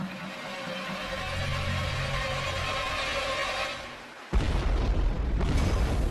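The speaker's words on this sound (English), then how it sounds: "The bomb's explosion splits the side of one of the tanks and the LNG pours out." Dramatized bomb blast beside an LNG tanker's storage tanks: a long, loud rumbling roar gives way to a sudden sharp boom, then a dense crackling burst that carries on to the end, with no voices.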